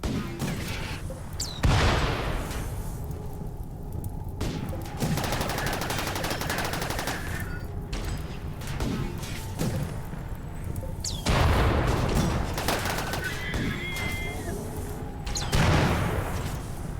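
Turrets firing in the RimWorld video game, repeated bursts of distant automatic gunfire with heavier booming volleys at intervals throughout, continuous and without speech.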